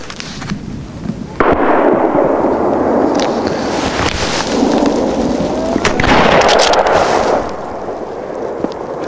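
Rifle shots at wild boar during a driven hunt in Hungary: a loud sharp report at the start, then further sharp cracks and rolling echoes over a constant outdoor rumble.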